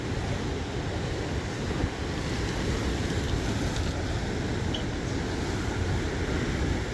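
Big ocean waves at Tel Aviv beach roar in a steady, broad wash of surf with wind buffeting the microphone, continuous and fairly close with no voices.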